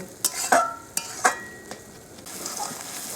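Goat meat being fried and stirred with its fat and ground spices for ghugni produces a bubbling sizzle broken by several sharp spatula knocks and scrapes against the pot, close up, with no voices.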